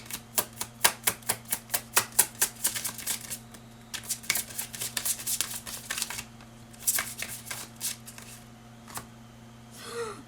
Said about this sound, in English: I'm gonna get one more card for the Star.